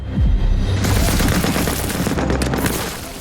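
Machine gun fire in a World War II film: dense, loud bursts of automatic gunfire mixed with heavy booms and battle noise, sustained and close.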